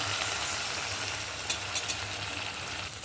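Ground spices, chili, turmeric, cumin and coriander powder, fry in a pan with a soft continuous sizzle, and a few faint scrapes of stirring come through near the end.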